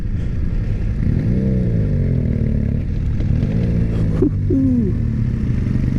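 A 2019 BMW F850GS motorcycle engine chugs steadily while riding, a low rumbling drone with shifting engine tones and a few clattering bumps near the end.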